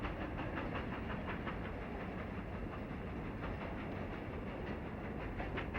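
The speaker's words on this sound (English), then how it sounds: "an eastbound freight comes through Emigrant Gap" An eastbound freight train rumbles through Emigrant Gap in a steady, dense roar with faint rhythmic clatter of wheels on rail, constant and moderately distant throughout.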